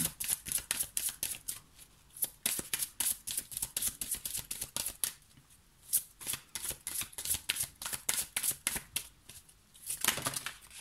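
Oracle cards are shuffled by hand in quick riffling bursts, close and crisp, repeating in rapid flurries with brief pauses, with no voice over them.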